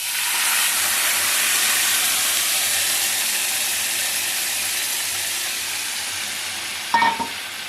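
A hot tempering is poured into cooked lentils and bursts into a loud, close sizzle that hisses steadily and slowly fades, ending with a short clatter.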